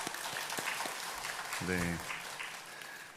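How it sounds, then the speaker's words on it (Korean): A church congregation at a special dawn prayer service claps for a young sister, a soft, distant patter of applause with a brief spoken response from a man partway through. "우리 귀한 사명 감당해줄 우리 해솔자매에게 박수 한번 쳐줄까요?"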